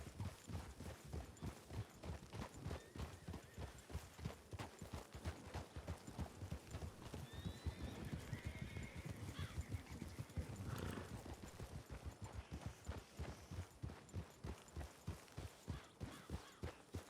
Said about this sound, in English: Little horse legs go a little quicker than my long horse legs.